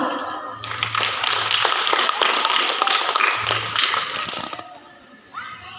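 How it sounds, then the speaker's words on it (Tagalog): A crowd at an elementary school graduation applauds its teachers with a dense, sustained wash of clapping that swells quickly, holds for several seconds, then fades out. "Isang pagpupugay at palakpak sa inyo mga guro"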